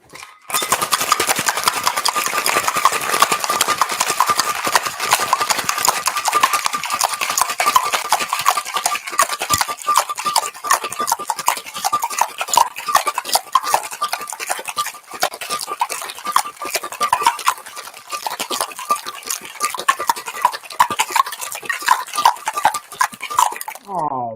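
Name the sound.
cocktail shaker being shaken with ice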